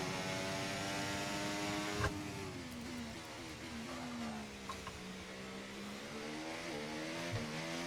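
Formula 1 cars entering the pit lane in the video game F1 24 at Belgium: a steady, close engine whine that glides up and down in pitch, with a few faint clicks and no talking.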